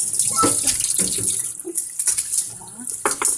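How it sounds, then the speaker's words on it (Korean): Cold tap water runs and splashes over japchae glass noodles as the starch is rinsed off in a kitchen sink, an uneven rushing flow that swells and dips. "그래서 이렇게 반드시 찬물에 이 녹말가루를 녹말 전분 이거 빼주세요"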